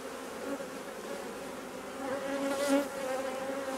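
Honey bees buzz around an open hive as frames are lifted out, a close, dense and continuous drone that swells and fades as individual bees pass near.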